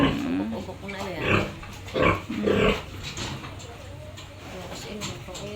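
Pigs grunt in a farm pen where a pregnant sow sits, their low snorts and grunts coming in short bursts over steady background noise, with a person talking nearby.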